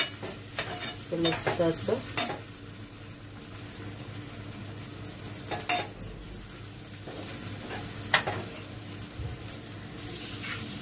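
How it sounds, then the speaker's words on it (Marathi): Zhunka, a Maharashtrian gram-flour dish, sizzles steadily in a pan while a spoon scrapes and stirs it in scattered strokes, close by, with a brief spoken remark over the cooking. "आपल्याला हे झुणका चांगला शिजून घ्यायचा आहे."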